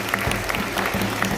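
A crowd at an outdoor rally claps, a brief burst of applause with scattered sharp, distinct hand claps standing out against a steady background wash.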